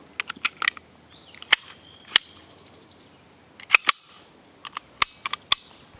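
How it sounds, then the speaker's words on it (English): Sharp metallic clicks and snaps as the slide of an H&K P7 PSP pistol is reinserted and worked, close and crisp, scattered irregularly with quiet gaps between. "You reinsert your slide into your barrel."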